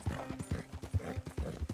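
Hooves of a Seal Brown Thoroughbred horse in Red Dead Redemption clip-clop in a steady, close four-beat rhythm, with soft gameplay ambience beneath and no voices.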